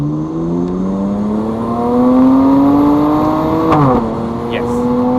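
Alpina car with a factory Akrapovic exhaust revving and accelerating, engine note climbing steadily through the gears with a brief shift dip, close and loud throughout.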